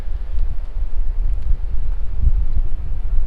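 Wind buffets a microphone at a lookout above a sandy beach near Pemberton, Western Australia: a continuous, loud, low rumbling roar with gusty fluctuations and no clear voices.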